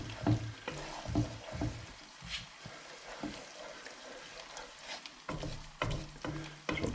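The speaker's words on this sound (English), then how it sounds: "combining the ingredients, getting them truly mixed up." Tomato sauce ingredients being stirred together in a pot, with irregular scraping and sloshing strokes and a soft sizzle underneath, close and fairly quiet.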